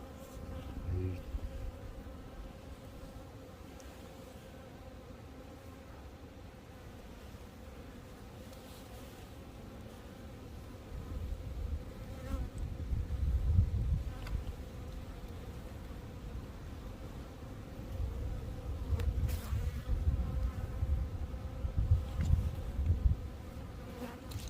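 A dense swarm of honeybees drones steadily around an opened hive during oxalic acid fumigation in early February, the buzzing swelling louder in waves and heard up close with no speech.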